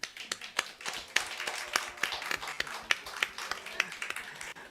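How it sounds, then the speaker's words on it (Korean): A church congregation claps for a returning member during a Lunar New Year Sunday worship service, the brisk, uneven hand claps sounding close and overlapping for a few seconds without speech. "우리 박수로 축하하겠습니다."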